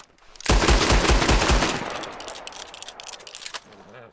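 Cattleman revolver fired in a video game, a rapid burst of loud, close gunshots in quick succession that fades into a ringing tail, with a couple of later shots, no talk.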